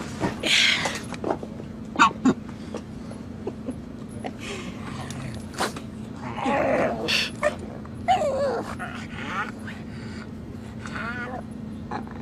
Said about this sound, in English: He's a service dog.